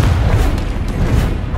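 Confringo spells blast in Hogwarts Legacy, a dense, loud, rumbling explosive boom that holds throughout with low thuds and bursts piling on top of each other.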